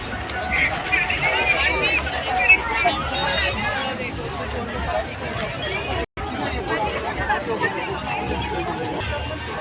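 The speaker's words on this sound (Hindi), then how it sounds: "मेले में बहुत ही भीड़ है।" Dense crowd hubbub fills a busy fair in Ajmer, a steady wash of overlapping voices and chatter with a brief dropout midway, loud and continuous throughout.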